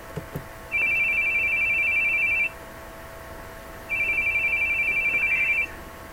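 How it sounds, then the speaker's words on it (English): An electronic phone ring in The Boogie Man video game sounds in two long trilling bursts of about two seconds each, loud and steady, separated by a quiet pause, with no talking. "where are you hearing the phone ringing?"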